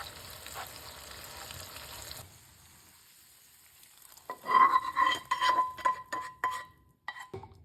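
Red and yellow lentil curry in a pot, first a soft simmer that drops away, then louder clattering spoon strokes and scraping against the pot in short bursts, close by, with no speech.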